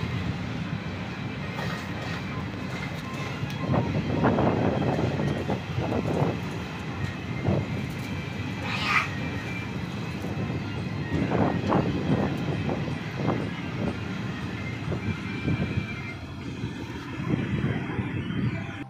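A train on the long journey from Rajasthan to Sealdah rolls on with a steady, heavy rumble and rhythmic wheel clatter, heard from inside the carriage with occasional louder swells.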